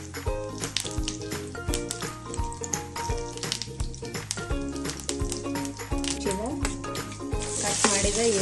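Cumin and mustard seeds splutter and sizzle in hot oil in a pan while a masala dish is cooked, the crackle sitting under loud background music and growing brighter toward the end.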